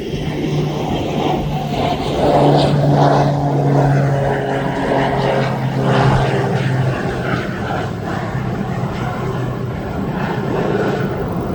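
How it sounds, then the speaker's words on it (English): A Beechcraft propeller plane comes in to land at East Midlands Airport, its engine drone loud and steady with a wavering tonal hum that swells and then slowly eases as it passes. "we got another Beechcraft coming in"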